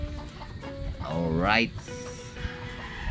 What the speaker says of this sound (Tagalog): Ang manok po ay bababa na at maghanap ng pagkain.